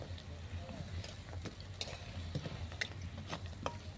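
Flour and egg pitha frying in a pan over a clay stove, a quiet steady sizzle with occasional scraping clicks and small knocks.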